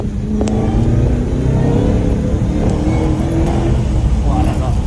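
An American car's engine revs up under hard acceleration as its supercharger kicks in, with a rising mechanical whine building over the roar as people talk inside.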